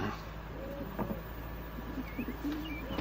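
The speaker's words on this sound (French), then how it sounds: "Des pigeons." Pigeons coo softly in a low, repeated murmur over a steady background hiss, a few short calls close together with no voices.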